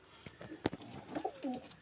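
Soft pigeon coos murmur at a moderate distance, a few short warbling phrases with light taps and shuffles in between.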